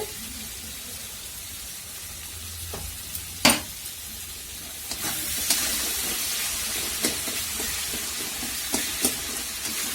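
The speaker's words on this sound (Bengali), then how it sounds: "একটু ভালো করে এবার কষিয়ে নেবে মশলাটা।" Spice paste for dhokar dalna frying in a pan, a constant hiss and sizzle with a loud clank of the spoon early on and repeated light scraping strokes as it is stirred.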